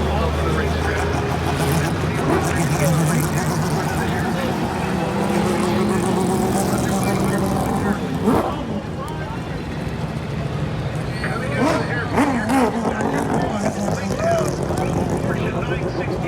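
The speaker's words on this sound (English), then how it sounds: "our pace car parade in the Akron and Texas is making their way off the racetrack" Pace cars, including an Acura and a Lexus, rumble off the racetrack at the Long Beach Grand Prix, a continuous mix of engine drone and crowd noise with a commentator talking over it throughout.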